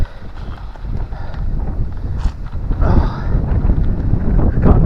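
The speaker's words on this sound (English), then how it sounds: "It's very windy." Wind buffets the microphone in low rumbling gusts on high ground near Rudyard Lake, Staffordshire, growing stronger toward the end, with no voices.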